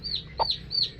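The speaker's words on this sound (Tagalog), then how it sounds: "May bagong pisa tayong manok." A hen with newly hatched chicks gives short soft clucks on a farm, close and clear, alongside high peeping chick calls repeating rapidly.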